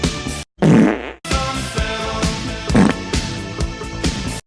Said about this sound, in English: All right, last fart clip